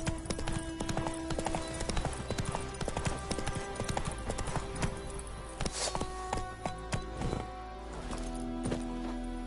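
Roach the horse trotting in The Witcher game, rhythmic hoof clip-clops close by and steady across the stretch, with other game ambience faintly underneath.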